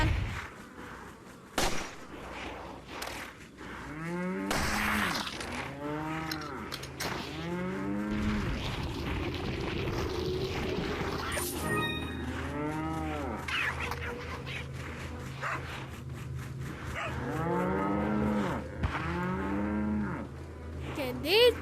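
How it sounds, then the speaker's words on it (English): Cattle in the Resident Evil 4 VR video game, lowing again and again in long, drawn-out moos that overlap and repeat across the clip, loud and close, with sharp sounds from the game in between. "Okay, these fucking cows, shut up!"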